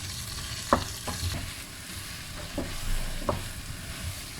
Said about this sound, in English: So let's brown the onions